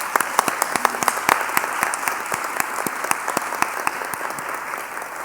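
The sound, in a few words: audience applause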